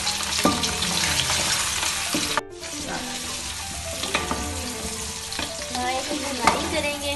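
Beef trotters fry and get stirred in a very large pot, a steady loud sizzle broken by repeated scrapes and clanks of the spoon against the metal, with no voices over it.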